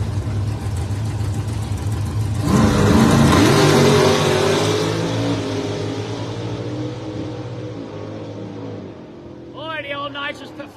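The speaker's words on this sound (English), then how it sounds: "the old nitrous, Fulton nitrous powered Virus Corvette just shot down through there, putting flames out the whole way" A nitrous-powered Corvette drag racing at Darlington Dragway roars loudly down the strip, its engine swelling to a peak and then fading into the distance, with a commentator talking over the run.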